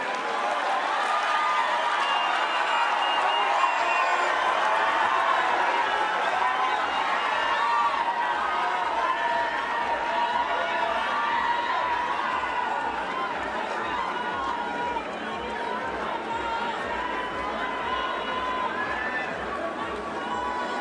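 A large audience at a devolution conference applauds former Prime Minister Raila Odinga, a dense, sustained roar of clapping and crowd chatter that stays loud and even for about twenty seconds.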